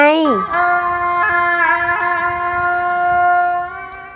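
A speaking voice briefly, then a Thai pi nai oboe, a reedy, nasal wind instrument, holds a sustained bright note with slight wavering, loud and close.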